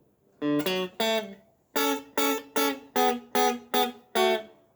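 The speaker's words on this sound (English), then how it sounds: "Putting that delay echo on one more time because it sounds quite cool" Electric guitar riff played with a delay echo, a run of crisp, evenly spaced plucked notes and chords, close and clean, each trailed by a faint repeating echo.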